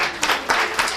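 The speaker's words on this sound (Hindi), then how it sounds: "ताली बजाओ इसके लिए।" A classroom of students claps together in a short burst of applause, a dense, close patter of many hands at a fairly loud, even level.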